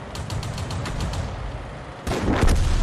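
A tank's cannon fires a round in a tank video game, with a rapid series of rattling pulses followed by a sudden loud blast and a rumbling tail.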